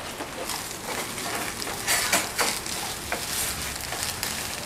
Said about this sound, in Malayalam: ഞാനിത് നന്നായിട്ട് മിക്സ് ചെയ്യുന്നു.